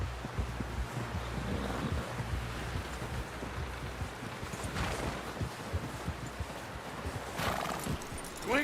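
Horse hooves clip-clopping in Red Dead Redemption 2, with a couple of neighs rising above a windy outdoor backdrop, fairly faint and steady throughout.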